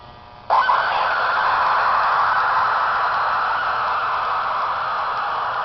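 A CFL lamp runs on a pulse generator circuit and switches on abruptly with a loud, steady static-like buzzing hum that holds unbroken for several seconds, with no talking.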